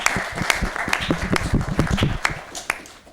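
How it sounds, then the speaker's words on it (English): Audience applause at a college music forum during a world arts festival week, a few seconds of dense, close clapping with scattered individual claps standing out. "give them a round of applause"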